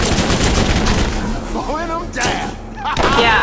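Loud, sustained video-game gunfire near a turret in Borderlands, shots rattling almost without pause, with voices speaking over the barrage.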